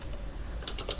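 Soft, quick keystrokes on a computer keyboard during data entry in a spreadsheet, a short burst of light clicks at low level with no voices.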